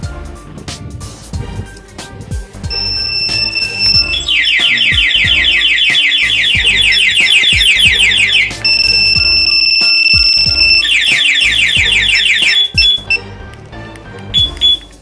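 Two-way alarm on a Yamaha Mio Gravis scooter going off, loud close warbling electronic siren bursts alternating with steady high beeps in repeating cycles, nearly continuous and loud, over faint background clatter.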